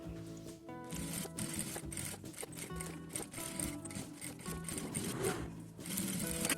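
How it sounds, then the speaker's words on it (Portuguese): A sewing machine topstitches a plastic cutlery holder with a zipper, giving a steady, rapid mechanical clatter that runs close and unbroken with a few brief stops. "E agora eu vou passar o pesponto em toda essa parte."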